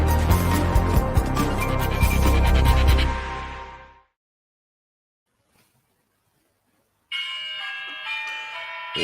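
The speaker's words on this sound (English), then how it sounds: "That's today's bell." A bell rung to open a podcast episode: a bright, ringing metallic burst that decays into silence, followed after a pause by another clear tonal ring, all fairly close and loud.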